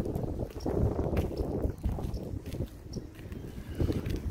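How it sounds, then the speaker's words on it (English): Gusty wind buffets the microphone in low, uneven rumbles that swell and ease outdoors in Williamson, West Virginia, with faint clicks in the background and no talking. "A little bit windy, you might be picking that up."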